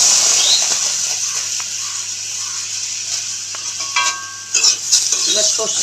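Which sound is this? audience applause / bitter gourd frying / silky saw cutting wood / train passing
bitter gourd frying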